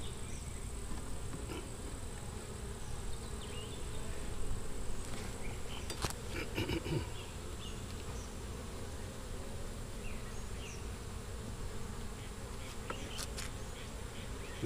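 Bees hum in a dense, continuous drone around an open long Langstroth hive outdoors, steady and fairly quiet, with a few brief knocks and clicks mixed in.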